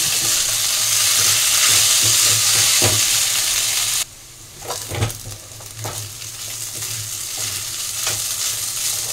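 Noodles sizzle loudly in a wok over a high gas flame, then the hiss suddenly drops and spatula scrapes and knocks against the metal take over, with the frying building back up.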